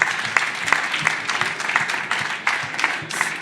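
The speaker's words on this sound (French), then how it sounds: "On peut l'applaudir bien fort." An audience at a regional business event on reindustrialisation bursts into sustained applause, dense hand clapping that runs loud and steady through the clip.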